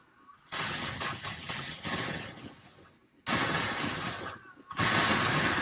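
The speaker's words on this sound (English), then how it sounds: "Damn it, the artillery." Artillery fire in the Gettysburg: The Tide Turns strategy game, with several loud bursts of rumbling cannon volleys separated by brief near-silent gaps.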